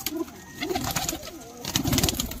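Pigeons released from their box coo in soft, throaty, overlapping calls, with wing flutters and rustling close by, continuous throughout.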